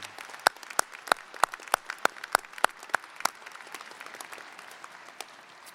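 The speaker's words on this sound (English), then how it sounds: "Let's please recognize them with a round of applause for all that they do." Commencement audience applauding support staff, with a few loud, distinct claps standing out near the front over a thinner spread of clapping that tapers off.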